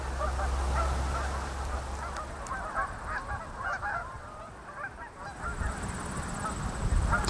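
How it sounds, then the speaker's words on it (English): A flock of geese honks continuously across open rural land in northern Maine, a steady chorus of overlapping calls at moderate distance with a low rumble underneath. "Hear the birds?"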